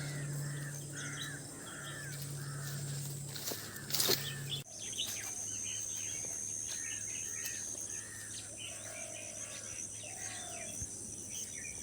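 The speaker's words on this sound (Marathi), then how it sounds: "पक्ष्यांचा आवाज किलबिल किलबिल" Birds chirp and call repeatedly in open air beside harvested rice fields in the countryside, with a crow-like caw among them and a steady background hum.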